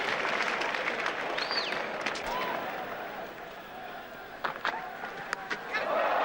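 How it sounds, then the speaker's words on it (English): A cricket crowd at the 1988 Australia v West Indies Test in Brisbane stands and applauds a six by Viv Richards, a broad, sustained wash of clapping and cheering from a large stadium throughout, with a few sharper shouts and whistles. "The crowd stands and applauds"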